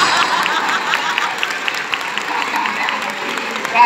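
An audience at a circus show breaks into applause after a joke, a dense, even clapping that holds steady for a few seconds and swells slightly at the end.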